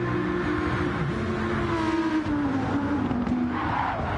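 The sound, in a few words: Audi V10 race car engine in a racing video game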